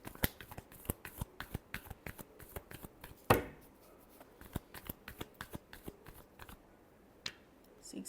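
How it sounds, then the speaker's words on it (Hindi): A deck of tarot cards is shuffled by hand close up, with quick riffling flicks and soft taps in an uneven rhythm and one sharper snap partway through, quiet and without speech. "Last shuffle."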